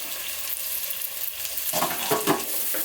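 Onions, tomatoes and curry leaves sautéing in a pan for mutton kulambu: a quiet steady sizzle, then several louder scraping stirs toward the end, close and without voices.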